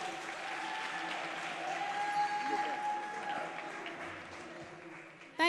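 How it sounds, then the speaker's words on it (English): At a Milwaukee celebration, a crowd gives a young national anthem singer warm, sustained applause, an even wash of clapping with a faint tonal hum underneath, ending with a brief sharp sound at the close. "Let's give her a warm round of applause for our national anthem."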